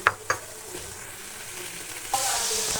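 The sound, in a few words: food frying in oil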